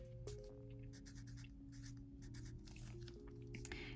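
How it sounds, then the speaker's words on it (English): A darker yellow marker scratches across paper for homemade mini Pokémon cards, faint, close strokes rasping in short repeated bursts over a steady low hum. "I'll take a darker yellow marker and I'll write out"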